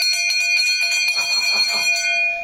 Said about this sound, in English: It's called the school bell.